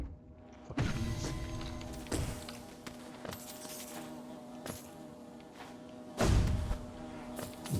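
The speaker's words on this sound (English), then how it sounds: "Fucking bees." Bees buzzing in a video game, a faint insect drone running under several sharp thumps and knocks, with louder bursts near the start and toward the end.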